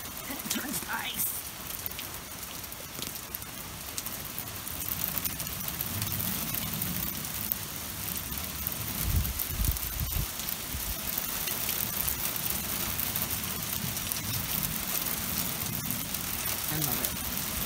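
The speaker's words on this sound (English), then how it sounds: "Lots of rain." Steady rain patters across a surface in Lake Elsinore, a continuous broadband hiss with occasional louder drops and a low rumble, holding an even level throughout.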